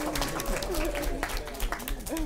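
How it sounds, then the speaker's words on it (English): Conference audience claps and whoops at a travel blogging awards session, a brief, moderately loud burst of clapping with voices calling out over it. "I didn't ask for cheers and whoops"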